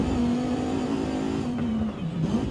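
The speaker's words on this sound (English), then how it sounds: "really good sounding car, especially from the interior" A BMW in Forza Horizon 5 heard from the cockpit, its engine holding a steady, loud drone with a slight dip and recovery near the end, no voices over it.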